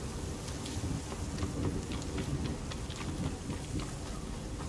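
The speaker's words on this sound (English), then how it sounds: "Sounds like there's a storm coming." Rain and a thunderstorm in the Horizon Forbidden West video game make a dense, steady hiss of falling rain with low rumbling thunder rolling underneath, continuous and fairly soft.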